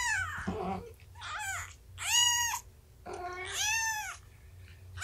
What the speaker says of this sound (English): You hear your mama chirping at you?